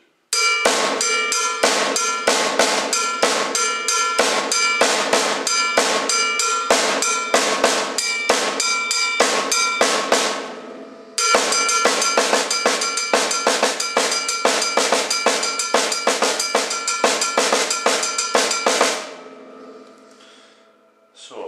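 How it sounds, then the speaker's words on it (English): Rapid cowbell strokes in a steady rudiment pattern, bright and ringing, played alone in two long runs with a brief pause between them. "I'll play it on the cowbell so you can hear the separate sticking."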